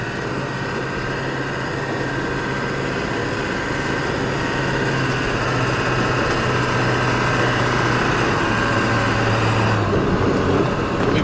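A 1979 Ford F350 with a Power Stroke turbo diesel and lift springs drones steadily from inside a sound-deadened cab, a continuous loud low rumble with an even tone and a slight change in pitch toward the end.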